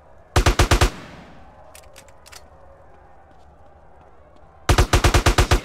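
Bursts of AK rifle fire in GTA San Andreas: a rapid five-shot volley, a couple of seconds of quieter background clatter, then a longer loud burst of about seven shots.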